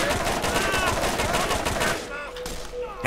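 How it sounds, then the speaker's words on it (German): Rapid gunfire in the shooter game Borderlands rattles loudly and continuously for about two seconds, then drops to a thinner burst and fading tail. "Du wirst beschossen von hinten oder von vorne,"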